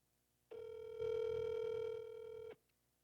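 A telephone call being placed: a steady electronic ringback tone lasting about two seconds, clear and alone.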